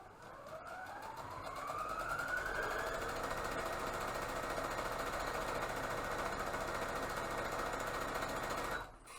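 A sewing machine stitching a fabric face mask runs up to speed and then holds a fast, steady mechanical whir for about seven seconds before stopping abruptly. It is close and fairly loud, with no talk.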